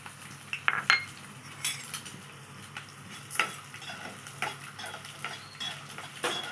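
Garlic, urad dal and chana dal fry in a pan with a soft steady sizzle, broken by repeated scraping and clinking as a spoon stirs them against the metal.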